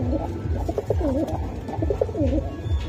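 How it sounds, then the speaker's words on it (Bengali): A pair of Pakistani Teddy pigeons coo in repeated soft, rolling calls close by, several phrases in a row over a low background hum. "খুবই সুন্দর কবুতর ভাই"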